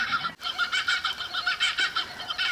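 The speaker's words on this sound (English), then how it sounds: "Those crows and kookaburras." Kookaburras and crows call around a quiet campsite at Tannum Sands, where sausages are cooking: a steady run of bright, chattering, squawking calls, fairly close and repeating in quick bursts, with no talk.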